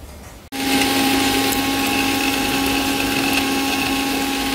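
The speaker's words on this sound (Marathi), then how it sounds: "मिक्सर 3 वर चांगल्यापैकी ठेवून बारीक करून घेऊया." A kitchen mixer on setting 3 switches on abruptly and grinds oats with chopped almonds, a loud steady whirring drone that carries on without a break from start to finish.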